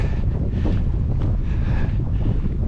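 Wind blows steadily at the Österby kitesurfing spot in Estonia, a loud, continuous roar and buffeting against the microphone with no break.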